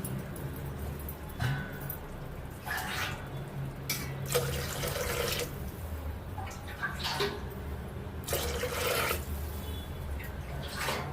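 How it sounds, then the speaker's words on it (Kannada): Water poured into a pan of fried jeera rice being cooked catering style, heard as a few short bursts of splashing liquid over a low steady background, moderately near. "ಇದಕ್ಕೆ ನೀರು ಹಾಕ್ತಾಯಿದ್ದೀನಿ"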